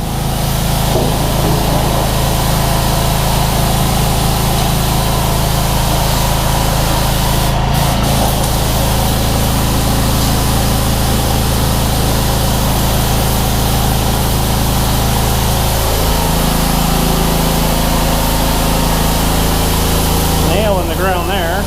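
A tractor engine runs steadily while lifting a shipping container during repositioning, a loud continuous drone whose pitch shifts as the load is raised toward the end.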